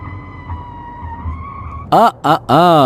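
A car pulls up and brakes on a highway, ending in a loud squealing tyre skid in two or three sharp bursts after a quieter stretch of low rumble and hum; a brief voice sound is present before the screech.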